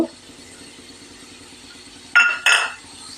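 Capsicum fry being mixed with salt in a pan: a quiet, steady background, then two quick, bright metallic clinks of a utensil against the pan close together near the end.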